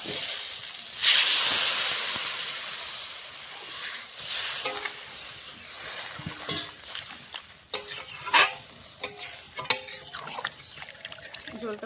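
Kohlrabi and spices sizzle and hiss in a hot pan while a utensil stirs and scrapes, with intermittent clinks and a strong frying hiss early on.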